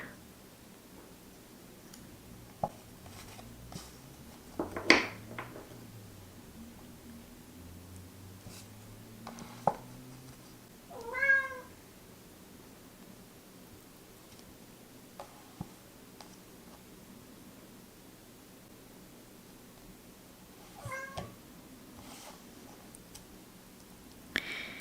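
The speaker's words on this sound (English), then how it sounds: "it's just my cat. She wants to go outside." A house cat gives a faint meow and later a second, softer one, heard from a short distance in a quiet room with occasional rustling and small ticks.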